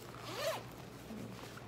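A zipper slides along a pocket of a Tokidoki JuJuBe bag with triple tabs, one quick close rasp lasting under a second, followed by quiet handling.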